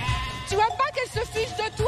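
Ewes bleating in a mountain pasture setting, wavering calls overlapping with a woman's French speech, fairly close and repeated through the clip.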